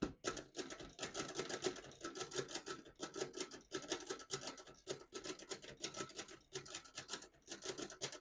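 A 1937 Remington Noiseless Model 7 portable typewriter is typed on steadily, giving rapid, muffled key strikes in dense bursts with brief pauses, close up and fairly soft.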